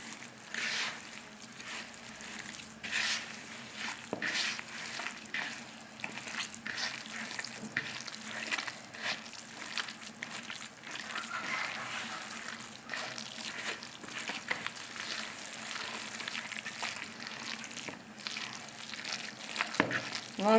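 Egg being mixed by hand into mashed eggplant and minced meat, a faint, continuous wet squelching and stirring with scattered soft knocks.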